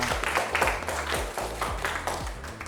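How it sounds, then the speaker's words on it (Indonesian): A classroom of students claps for a presenting group, giving a short burst of loose, uneven hand claps with audible individual strikes in a small room. "tepuk tangan untuk kelompok 5"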